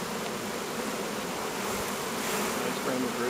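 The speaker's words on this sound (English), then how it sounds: "Too many bees in here." Dense, steady insect buzzing from many swarming honeybees around a hive, continuous and fairly loud throughout, with a faint voice briefly underneath.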